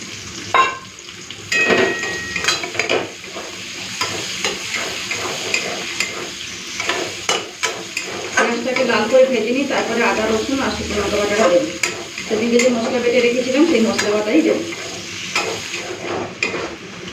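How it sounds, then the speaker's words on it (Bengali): Chopped onion sizzles steadily in hot oil tempered with bay leaf and whole cumin, with repeated scraping stirs of a spoon against the pan throughout. "পেঁয়াজটা লাল করে ভেজে নিয়েছি"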